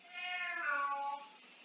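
A cat meows once, a drawn-out, slightly rising and falling call lasting about a second, heard close and alone.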